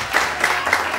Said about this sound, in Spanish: Dale un aplauso, por favor, para él.